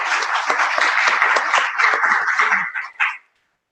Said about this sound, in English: A round of applause to him.